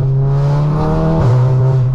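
A Stage 3 big-turbo Volkswagen Golf R accelerates hard, heard from inside the car: a loud, steady engine drone that briefly dips, as if through a gear change, then resumes its strong pull.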